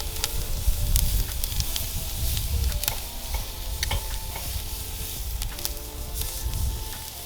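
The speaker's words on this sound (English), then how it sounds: "So you're just getting that direct heat over that really hot, good charcoal company, giving you the sear that you're wanting." A tri tip steak searing over very hot charcoal gives a steady, close sizzle and hiss with occasional crackles and pops, alone and with no voices.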